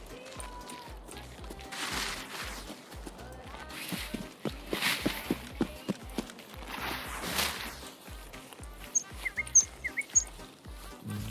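Video game birds chirp in short, bright bursts over low game ambience and soft patter, fairly loud and recurring toward the end.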